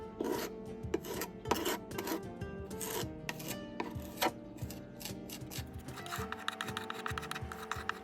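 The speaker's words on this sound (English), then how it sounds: "I just gave it a light hand sanding" Hand sanding of dried wood filler on a painted furniture hutch: quick rasping strokes of abrasive on wood, a series of short scrubbing bursts in uneven rhythm, close and moderately loud, with no voices.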